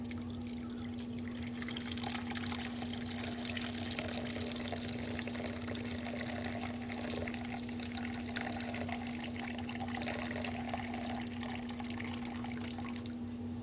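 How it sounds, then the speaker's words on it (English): Beer poured into a pan of baby back ribs makes a steady, continuous liquid pouring and splashing wash close by, with a constant hum underneath and no talking. "Let's get this poured in."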